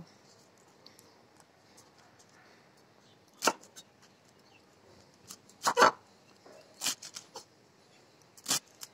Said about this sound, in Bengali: শাকটাকে এখন আমি কেটে নেব।